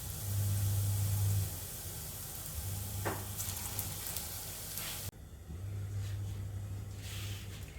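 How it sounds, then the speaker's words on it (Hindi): Paneer and carrot koftas frying in oil over a medium flame give a steady, soft sizzle with a low hum running underneath, and a brief clatter partway through. "अब मैं इसको मीडियम फ्लेम पे फ्राई कर लेती हूँ"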